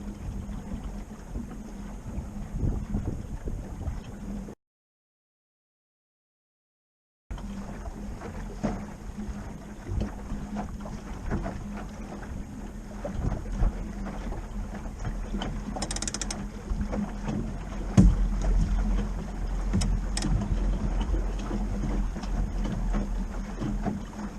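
A sailboat under way in cold weather: steady low water wash and wind against the hull, with occasional creaks and clicks of rigging and fittings, briefly dropping out partway through.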